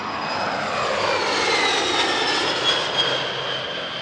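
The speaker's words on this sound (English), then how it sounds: "Also taking to the air was NASA's G3 flying testbed, an ex-USAF C-20A" A NASA G3 flying testbed, an ex-USAF C-20A business jet, passes at a military airshow, its engine roar loud and sustained, swelling slightly as it goes by with no voices.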